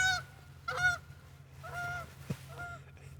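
Two geese fly overhead honking, several clear nasal calls coming in short bursts over a low steady background hum, moderately close and not overlaid by any talk.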